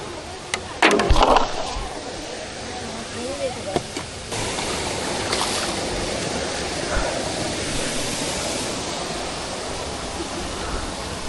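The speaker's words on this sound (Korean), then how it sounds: "구성폭포에 도착" Guseong Falls pours in a steady broadband rush that holds throughout, with a few brief louder knocks and voices early on.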